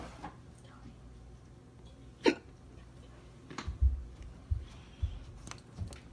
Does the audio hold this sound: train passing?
no